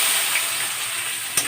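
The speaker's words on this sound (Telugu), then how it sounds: "తర్వాత మనం కట్ చేసి పెట్టుకున్న ఉల్లిపాయలు పచ్చిమిర్చి వేసేస్తాం." Chopped onions and green chillies hit hot oil in a pan, giving a loud, dense hiss of frying that holds steady, with a brief clack near the end and no talking.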